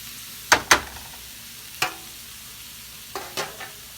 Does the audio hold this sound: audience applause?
no